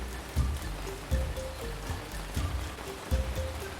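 Heavy rain falls in the Ancient Cities city-building video game, a steady wash of hiss with low rumbling thumps recurring roughly every second beneath it.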